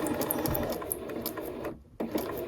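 A sewing machine runs steadily without thread along a printed practice line on paper, a continuous close, loud whirring hum with a brief pause before the stitching resumes.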